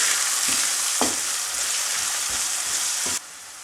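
Spiced bulgur mixture with chili, black pepper and cumin sizzling in a pan, a steady close frying hiss broken by a few soft scraping stirs of a spoon, no talking.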